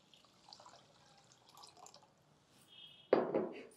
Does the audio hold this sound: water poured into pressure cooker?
yes